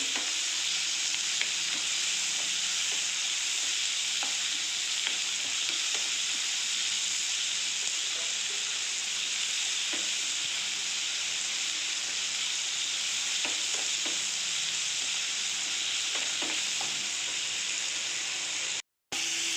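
Tomato and onion cook with salt in a pan for drumstick leaf sambar, a steady close sizzle and frying hiss running continuously with occasional stirring clinks and no talk.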